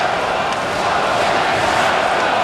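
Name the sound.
Oshawa Generals fans chanting at hockey game, Quebec City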